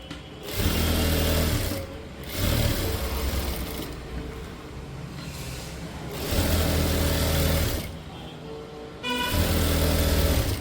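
A sewing machine stitches a blouse in four loud, steady whirring runs of one to two seconds each, separated by short pauses, heard close up with no talking.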